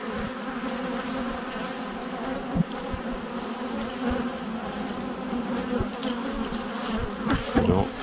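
Honey bees buzz in a steady, dense drone while a hive is opened and split into nucs, the hum staying close and continuous with a few faint handling knocks and no talking.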